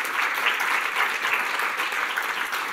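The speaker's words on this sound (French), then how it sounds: "je crois qu'on peut les applaudir" Applause from a conference audience at a colloquium: continuous, even clapping from a seated crowd, fairly close and moderately loud, with no talking over it.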